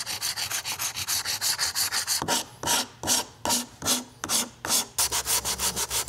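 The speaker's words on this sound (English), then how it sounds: "I have this really beefy file made out of saw blades. Bandsaw blades, so I can use that to carve away most of it" A coarse file made from bandsaw blades rasps against cured filler on a large prop sword, loud and close, in quick rhythmic back-and-forth strokes that slow to separate heavier passes midway and then speed up again.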